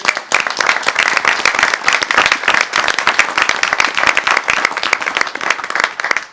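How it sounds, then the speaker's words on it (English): A roomful of people at a city council meeting applaud warmly and continuously, dense clapping at steady loudness for several seconds with no voices over it. "I would just ask the folks to give her a nice round of applause and thank her for her service"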